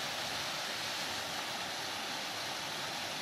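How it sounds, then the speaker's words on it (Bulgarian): Steady broadband roar of a waterfall in the Rhodope Mountains, heard up close and continuous with no pauses and no talk over it. "Е, ти точно пред водопада."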